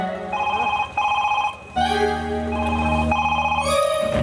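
A Nokia 108 mobile phone plays its ringtone, a loud, close electronic melody of repeating tonal phrases with brief gaps, heard alone without talk.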